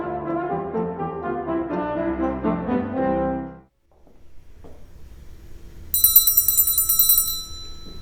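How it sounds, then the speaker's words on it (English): A bell rung at a horn factory in Mainz whenever a new horn is finished gives a bright, loud ringing burst near the end, after instrumental music fades out and a quiet pause. "This bell is rung every time a new horn is finished here at the factory."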